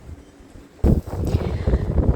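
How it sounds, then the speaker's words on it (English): A sudden gust of wind buffets the microphone in a garden on a blustery day, a loud low rumble that breaks in after a calmer moment and keeps surging unevenly. "it's a very windy day"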